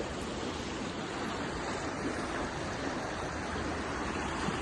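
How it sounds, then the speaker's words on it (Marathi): Narmada river water flows past a private resort riverside, a dense, unbroken rushing wash that holds steady from start to finish with no other sounds standing out. "हे पहा नर्मदा नदीचं इथून पाणी चाललेलं आहे"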